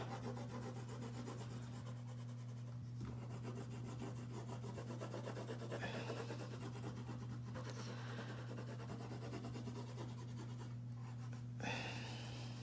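A pencil drawing on paper, sketching a dinosaur, gives a close, continuous scratchy rubbing with short pauses between strokes over a steady low electrical hum.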